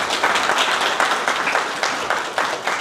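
Audience applause at a book presentation, steady dense clapping from a crowd that swells slightly in waves and continues throughout without speech.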